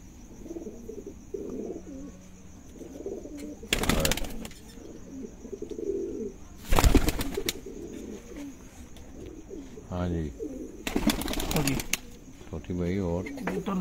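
Breeding pigeons coo softly in low, throaty calls close by, with a few sharp bursts of wing flapping and someone talking over them.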